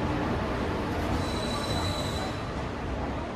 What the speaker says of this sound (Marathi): चला आपली ट्रेन आलेली आहे मित्रांनो,